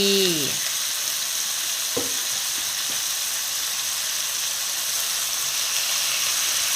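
Offal stir-fries in a hot pan with oyster sauce, sugar and soy sauce for a Thai basil dish, a loud steady sizzle throughout with a couple of faint scraping stirs near the start.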